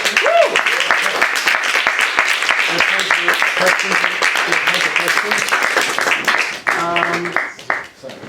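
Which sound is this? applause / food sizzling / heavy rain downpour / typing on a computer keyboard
applause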